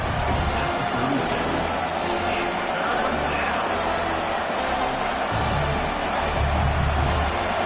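Stadium crowd noise from the College Football 26 video game, set in a Georgia home game against Georgia Tech, with a dense, constant roar over a third-down play while a commentator talks over it.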